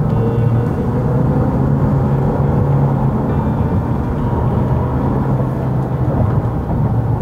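A 2016 Mitsubishi Outlander Sport crossover engine roars in S mode in third gear while driving, a loud, constant low drone and whir that holds steady without a break and has no talking over it.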